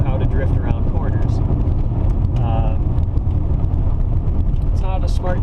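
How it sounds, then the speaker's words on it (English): A Ford Ranger pickup in rear-wheel drive rolls along a gravel road, its steady engine rumble and crunching tire noise continuous and close throughout, with someone talking over it. "I'm driving a Ford Ranger that's in rear-wheel drive mode"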